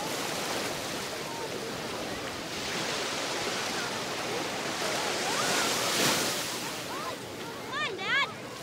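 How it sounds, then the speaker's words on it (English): Broad, rushing ocean surf roars steadily, swelling and easing as waves break, with a few brief high chirps near the end. "We're at the beach."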